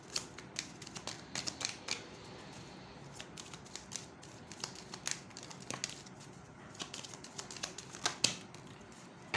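Tarot cards being shuffled by hand close up, a quiet run of rapid riffling flicks and soft slaps in irregular bursts, with no talking.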